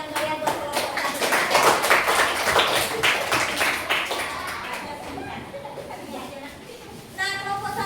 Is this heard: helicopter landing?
no